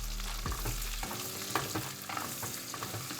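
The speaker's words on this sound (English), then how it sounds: "I left it frying for 2 more minutes, and now I'm gonna add the nopalitos." Pork ribs and nopales sizzle in a hot pan with a steady crackle, while a utensil scrapes and stirs now and then.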